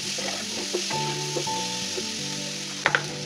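Jackfruit seeds fry in mustard oil in a pan with a little sugar and salt, a close, steady sizzle broken by scraping clicks as they are stirred, with no talk.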